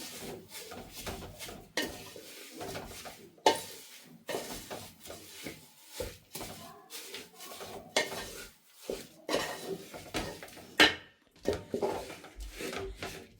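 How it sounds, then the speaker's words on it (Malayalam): Flattened rice (aval, poha) is stirred in a pan with the flame turned off for a dry-fried evening snack. Quiet, close scraping and clinking of a spoon against the pan repeats in uneven strokes throughout. "നല്ലോണം ഇളക്കി കൊടുക്കണം"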